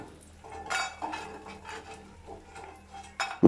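Fried lentil dumplings (bori) are lifted from the pan into a bowl, producing several close clinks and scrapes of a utensil against metal cookware in an irregular rhythm, with no talking.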